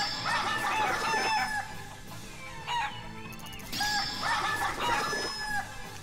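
Chickens in the Shenmue video game clucking and crowing in repeated bursts, with a short gap in the middle of the stretch; the calls are close and fairly loud, with no talking over them.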